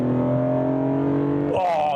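BMW E46 M3 engine humming steadily at close range, a loud sustained drone that shifts pitch near the end.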